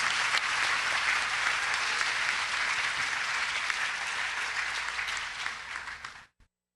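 A school audience claps in a steady, dense round of applause for sophomores receiving Principal's High Academic Honor Awards. The clapping stays full and even for about six seconds, then stops abruptly.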